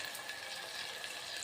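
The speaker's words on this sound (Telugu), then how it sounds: "కొంచెం ఆయిల్ తీసుకొని ఉల్లిపాయలు పచ్చిమిర్చి ఇలా వేయించుకోవాలి" Chopped onions and green chillies fry in a little oil for a potato curry, giving a soft, even sizzling hiss throughout with no speech.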